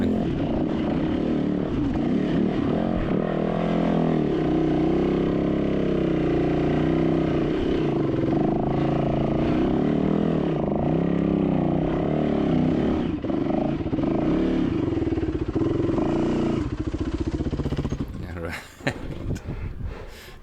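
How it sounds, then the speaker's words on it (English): A dirt motorcycle labors up a steep rocky hill near Chuckwalla Peak, its engine droning steadily at high revs for about eighteen seconds before easing off, close to the rider. "The bike will keep climbing."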